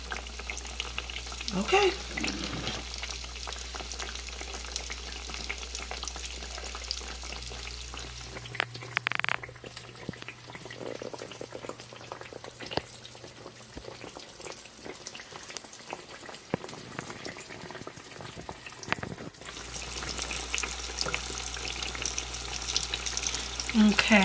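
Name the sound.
eggplant slices frying in a pan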